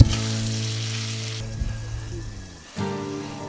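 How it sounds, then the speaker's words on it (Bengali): Potatoes and eggplant fry in a pan for a fish curry, giving a steady loud sizzle with stirring scrapes, a brief quieter lull, then a renewed burst of frying near the end. "এভাবে কষিয়ে নিতে হবে আলু বেগুন গুলো 5 মিনিট"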